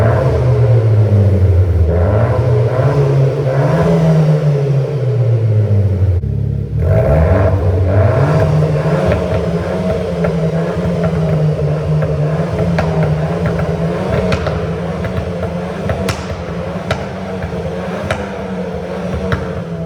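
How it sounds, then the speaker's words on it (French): A Renault Clio 4 RS in normal mode revs loudly up close, engine note rising and falling in several swells before it drops back to a steady, throaty idle. "Je vais vous mettre un coup de gaz en normal et après je vous mettrai le mode sport"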